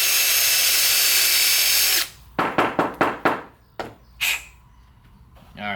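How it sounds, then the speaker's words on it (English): A drill spins a hosel brush to clean out the hosel of a golf club, starting with a loud steady whir, then giving way to several short sharp bursts and scrapes before dropping to near quiet. "we're going to get our hosel brush and clean it out"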